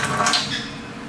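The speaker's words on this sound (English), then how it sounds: "The great water pressure." Water runs with strong pressure from a faucet into a stainless steel kitchen sink, a steady, close hiss and splash with a bright, washing texture across the whole second.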